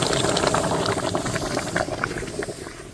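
Bay leaves, garam masala and dried chillies tempering in hot oil for aloo dum make a dense, bubbling hiss with rapid spitting pops, loud and close at first and easing slightly toward the end, with no talking.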